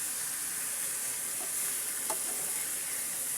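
Bitter gourd frying in a pan, a dense, even sizzle with soft stirring scrapes and a faint clink, close up and without speech.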